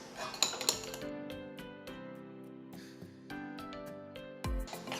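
Cotton candy ice cream base with cotton candy extract is stirred in bowls, giving light, ringing clinks of a utensil against the bowl. The taps are soft and scattered, with one brief heavier knock near the end.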